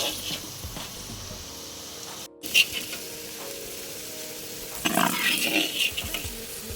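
Potatoes fry lightly in hot oil, a soft sizzling hiss with occasional stirring scrapes and a brief cut, then a louder bubbling burst near the end, close and without speech.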